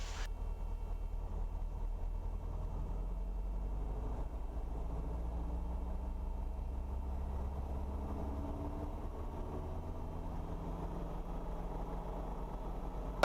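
A Cabri G2 helicopter engine at startup gives a steady, close, low rumble that holds nearly even throughout, with no talk over it.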